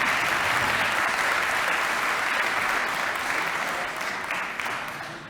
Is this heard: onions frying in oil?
no